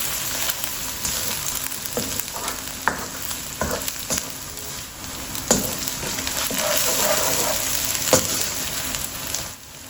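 Ginger-garlic paste fries in a pan with a continuous bright sizzle, broken by a few sharp scrapes and taps of a stirring spoon, close and steady throughout.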